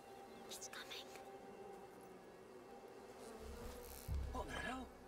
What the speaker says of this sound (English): Oh god, there's fucking bees, dude.